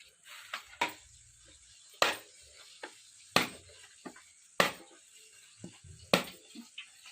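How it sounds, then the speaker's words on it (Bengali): Coconuts are being cracked open for a prawn and banana-flower curry, giving a run of sharp, separate knocks and cracks at irregular intervals, fairly close but quiet, with no talk. "আর একটা নারকেল ফাটিয়ে নেব।"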